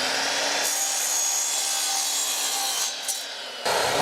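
Hand saw cutting a 45-degree miter in wood trim, rapid rasping strokes close up, the cut ending abruptly near the finish.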